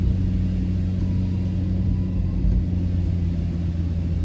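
A 1999 Subaru Sambar Dias II kei van, a Japanese import, drives along with a steady low engine drone and road rumble inside the cab, even and unbroken with no speech.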